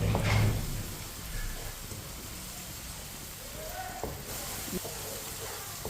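Onions fry in a pan and are stirred with a spoon until brown, a steady close sizzle running throughout with a few faint scrapes of the spoon.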